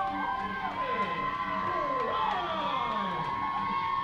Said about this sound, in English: And you hear the crowd respond accordingly.